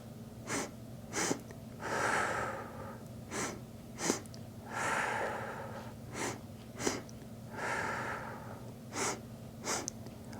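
Breathing during an intermediate Pilates workout with a disc and band: repeated soft inhales and exhales in a steady rhythm, each breath a broad airy swell with short sharp puffs between, fairly quiet and close, with no talk.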